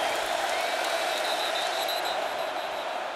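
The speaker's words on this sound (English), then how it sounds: "The crowd, which had been pretty subdued for a while, comes to life" Ohio State stadium crowd coming to life with a broad, sustained roar of cheering and applause at a Notre Dame vs Ohio State college football game, steady and loud throughout without any single standout voice.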